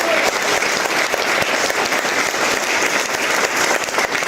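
Audience applause from a seated crowd, dense rapid clapping that stays loud and steady, close and continuous, with faint voices mixed underneath.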